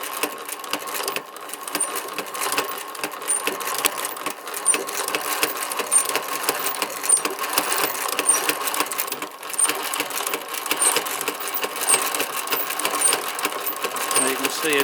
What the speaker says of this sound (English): Now we'll try and see if we can get it operating.